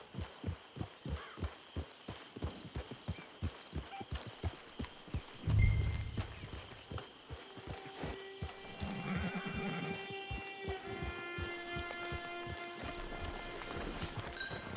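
Horse hooves clip-clopping in a steady rhythm in Red Dead Redemption 2, then a loud neigh partway through, followed by continued trotting with faint background music.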